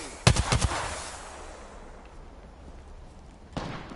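Gunfire in Apex Legends, a close cluster of four or five sharp shots at the start that fades into a soft tail, followed by one more isolated shot near the end.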